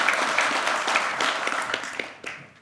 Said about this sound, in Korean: 여러분 한 번 더 박수로 맞아주시길 바랍니다.